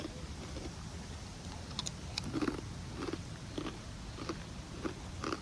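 Crunchy snack being bitten and chewed during a day trip to Minoh Falls in Japan, with repeated close crisp crunches over steady outdoor background noise.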